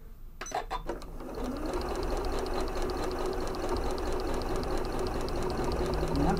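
A Janome 9480 sewing machine stitching a quilt runs in a steady, fast mechanical whir with rapid rhythmic ticking, close and continuous after a few brief clicks at the start.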